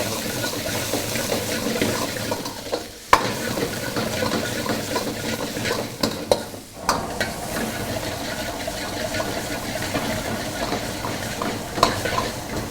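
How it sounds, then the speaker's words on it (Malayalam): Chicken sautés in a hot pan in a Kerala-style cooking setup, giving a continuous loud sizzle broken by occasional sharp scrapes and knocks of stirring. "ചിക്കൻ ഇട്ടതിന് ശേഷം നമ്മളൊന്ന് സോട്ട് ചെയ്യും"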